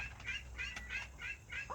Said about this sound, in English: that duck is driving me nuts